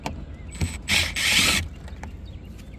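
Screws being worked out of the rear bumper of a BMW E90, heard as short ratcheting and mechanical whirring bursts, close and moderately loud, separated by quiet pauses.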